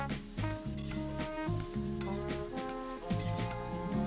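Fish pieces and onion stalks fry in oil for a Bengali fish chorchori, a close, continuous sizzle broken by rhythmic scraping strokes of a stirring spoon against the pan.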